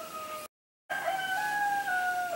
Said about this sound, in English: It's odd, the roosters are having a duel right now as if they wanted to be the top rooster.